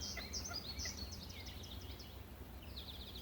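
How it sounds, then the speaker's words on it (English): Two woodpeckers call back and forth on a spring walk outdoors, giving faint, distant bursts of quick, chattering high notes over a soft background hush. "Those are 2 woodpeckers."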